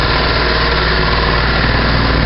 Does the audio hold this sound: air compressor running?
yes